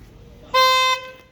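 A 2014 Volkswagen Jetta Highline's alarm horn gives one short, loud, steady blast that stops cleanly, with quiet background before and after.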